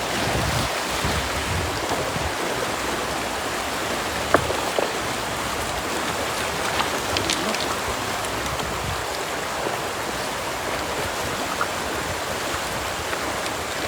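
A strong river current rushes in a steady, broadband wash at a fishing spot, a constant roar of flowing water with no breaks, fairly close and even throughout.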